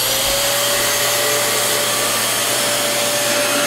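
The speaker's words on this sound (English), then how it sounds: "So let's test the Dyson animal vacuum out" A Dyson DC23 Animal canister vacuum cleaner running at close range, a loud, steady whirring roar with a constant high whine and no pauses or voices.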